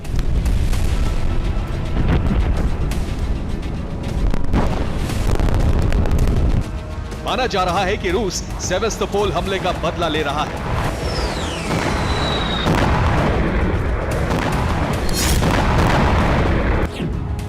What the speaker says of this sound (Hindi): कीव पर कई शाहिद ड्रोन से धमाके हो चुके हैं